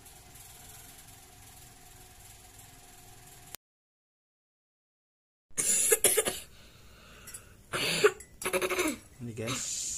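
A child with a cough and cold coughs several times in short, harsh bursts after a stretch of quiet background hum and a brief silence.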